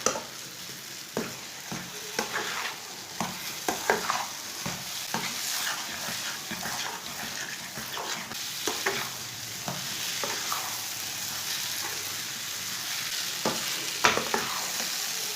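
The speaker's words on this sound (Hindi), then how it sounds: "इसे मीडियम आंच पर चम्मच चलाते हुए भून लेना।" Semolina and egg halwa stirred and fried with a spoon over medium heat, a steady close sizzle with scraping spoon strokes throughout, no talking.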